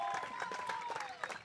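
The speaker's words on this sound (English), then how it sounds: "Paul Tavalian getting a big round of applause, well-deserved from the Eaglet faithful" Crowd applause from spectators at a high school baseball game, Detroit Country Day vs Orchard Lake St. Mary's, as the pitcher leaves, a faint steady patter of clapping under a commentator's voice.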